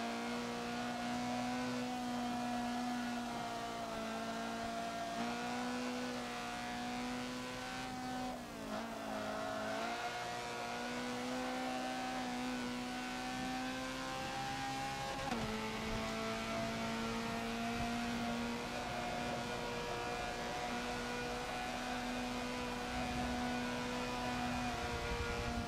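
A Honda CRX race car in Forza on the Dubai Mountain track: its engine drones steadily, with pitch shifts as the throttle eases and comes back and gears change, close and constant throughout.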